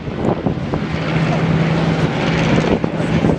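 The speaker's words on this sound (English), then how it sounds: "the Fokker DR1, the dry-decker," A Fokker DR1 triplane's engine drones steadily during a flying display at the Farnborough Airshow, a loud continuous hum with wind noise and crowd ambience throughout.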